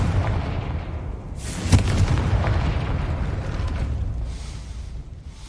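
The Confringo spell in Hogwarts Legacy fires with a sudden sharp blast, followed by a rumbling roar that lingers for several seconds. It sits over a steady bed of game ambience and music.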